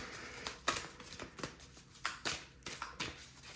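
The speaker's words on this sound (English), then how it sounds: "As I'm getting cards or shuffling, it means pay attention to this next card" Oracle cards from the Work Your Light deck being shuffled by hand, a string of quick papery riffles and slaps in irregular bursts, close and fairly quiet with no talking.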